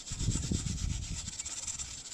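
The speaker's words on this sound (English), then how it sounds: "What we need to do now is just give it a good wire brush out where the arm fits." A wire brush scrubs the rear axle Panhard arm mount clean for new polyurethane bushes, making a steady, close, rasping scour that runs without pause, heavier in the first half.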